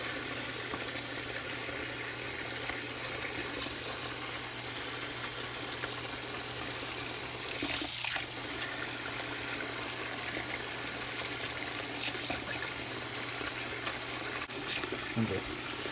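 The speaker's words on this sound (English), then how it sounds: "Some hot water on there." Hot water runs steadily from a tap at a low, even level for the whole stretch, with a few brief clinks and splashes around the middle and near the end.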